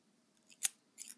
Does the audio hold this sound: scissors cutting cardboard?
yes